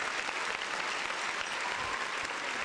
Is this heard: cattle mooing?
no